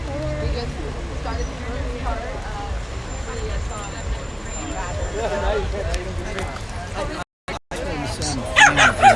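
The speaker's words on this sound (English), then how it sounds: "You have a beautiful dog." A dog barks a few times at an outdoor anti-censorship street demonstration in Washington, DC, heard amid crowd chatter, nearby voices and passing traffic.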